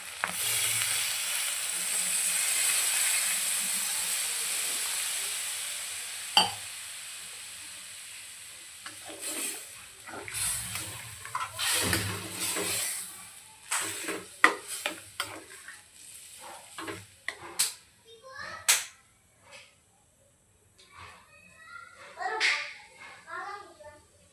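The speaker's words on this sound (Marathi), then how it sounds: "आता यामध्ये आपण पाणी ॲड करू." Water poured into a hot pan sets off a loud burst of sizzling that fades, followed by scraping stir strokes and clinks of a spoon in the pan, with a voice intermittently in the background.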